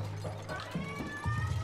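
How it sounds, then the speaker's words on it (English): A pet cat meows in the room, a few short separate cries over a steady low background hum, fairly close and moderately loud. "She just stands at my door and just meows at me."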